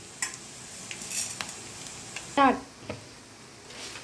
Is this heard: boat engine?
no